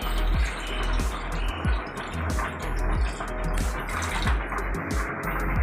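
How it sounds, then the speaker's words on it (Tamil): Water pours into a pot of duck curry gravy in a home kitchen, a steady splashing gurgle with scattered clinks, close and continuous. "லேட் ஆகும், அதனால சின்ன சோம்பில் ஒரு தண்ணி ஊற்றிக்கிறேன்."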